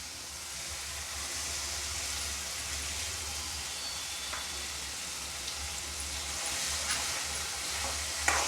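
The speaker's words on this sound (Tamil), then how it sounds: "வெங்காயம் நல்லா பொரிஞ்சு லைட்டாக ப்ரௌன் கலராக ஆகிட்டு இப்போ நம்ம தக்காளி அதில் சேர்த்துக்கலாம்" Onions and tomatoes frying in a pan for a tomato thokku, a steady sizzle with the scrape of stirring running throughout, close and fairly even with no talk.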